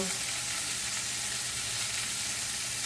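Shrimp and zucchini frying in olive oil in a pan give off a steady, dense broadband sizzle that holds evenly throughout at close range, with no talking over it.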